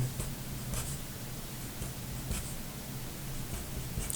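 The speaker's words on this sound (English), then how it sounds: "I'm going to write xy" Pen or pencil strokes scratch across paper while an algebra expression is written out, a soft, close scribbling in short bursts over faint background hiss, with no speech.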